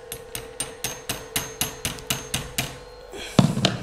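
About a dozen evenly spaced hammer strikes drive a fastener while skirting board is installed, each a sharp close knock, followed by a louder final thump.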